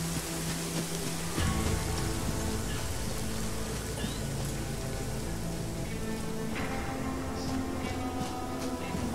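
Steady rain patters continuously in the horror video game Cabin in the Hills, a dense, even hiss of drops with a few sharper taps, with no voices over it.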